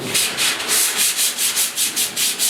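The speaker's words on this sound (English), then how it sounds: "I'm gonna stroke the whole thing real lightly with some 80 grit just to kind of knock down the sanding scratches a little bit" Rhythmic back-and-forth sanding with 80 grit sandpaper across the box side panel of a 1972 Ford 4x4 short box truck, about ten even rasping strokes close up with no talking.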